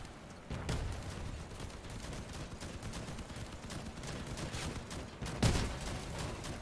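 Machine gun fire in the vehicle combat game Crossout: a continuous crackling rattle of rapid shots at a moderate distance, with a heavier burst near the end.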